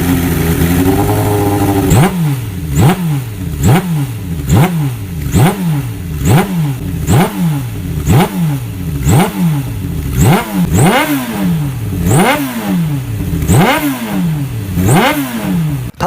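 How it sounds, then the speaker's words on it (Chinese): A Suzuki GSX-R750 sport motorcycle with an air- and oil-cooled inline four-cylinder engine is revved repeatedly, a rapid series of loud, close throttle blips rising and falling over a rough idle. "我们先听一下发动机声浪"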